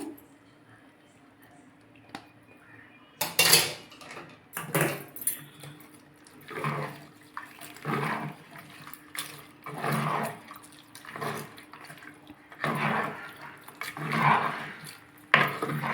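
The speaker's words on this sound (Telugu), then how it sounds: "పోపు పెట్టుకుని పక్కన పెట్టుకున్నాం కదండి ఇది దీంట్లో పోసేసుకొని బాగా మిక్స్ చేసేసుకున్నాము" Lemon pickle is mixed with hot oil tempering in a bowl, giving wet squelching churns and spoon clinks against the bowl in uneven bursts, close and moderately loud, while a voice talks faintly underneath.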